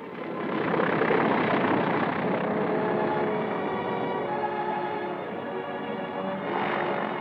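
A steady, broad engine roar of a World War II aircraft landing on Tarawa in 1944 holds at moderate level, swelling slightly early on and again near the end, with no talking.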